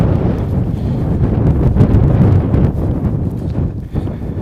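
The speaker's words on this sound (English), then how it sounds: "It's still windy." Cold, gusty wind blows steadily outdoors on a deserted city street, roaring loudly against the microphone as a low, continuous rumble that swells and dips slightly throughout.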